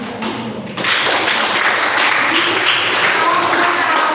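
Classroom applause from a group of students, a dense steady patter of clapping that swells after a brief moment and continues evenly to the end.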